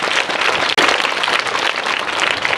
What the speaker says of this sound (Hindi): एक तालियां हो जाए